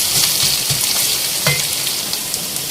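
Garlic ginger paste sizzling hot in a pan while cooking aloo baingan, an eggplant and potato curry, a steady close frying hiss with a few soft stirring knocks.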